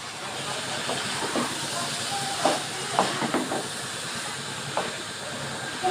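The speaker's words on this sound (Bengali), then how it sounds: "এবার বাঁধাকপিটা আমি দিয়ে দিচ্ছি একটুখানি সিদ্ধ করে," Boiled cabbage goes into a pan of fried prawns, raising a steady sizzling hiss with a few faint clinks from utensils.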